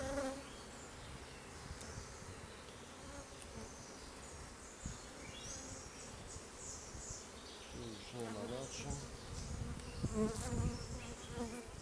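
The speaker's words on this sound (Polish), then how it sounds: "pszczoły wiszą, nie chcą się pracować" A dense, steady buzzing of many honeybees fills the clip, continuous and close, swelling slightly louder toward the end.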